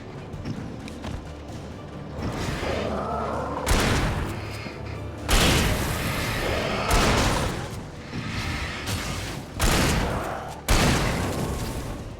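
Repeated shotgun blasts in Alan Wake, about five or six loud booming shots spaced a second or two apart, each with a broad crashing burst over a rumbling game background.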